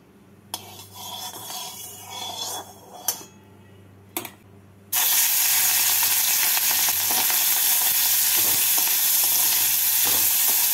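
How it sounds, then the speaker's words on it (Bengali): Fish sizzling and frying loudly in hot mustard oil in a wok, a steady dense crackle that bursts in after a few seconds of quieter clinks and stirring, with no talking. "তেলটাকে ভালো করে গরম করে নিয়ে মাছগুলোকে ভেজে তুলে নেব।"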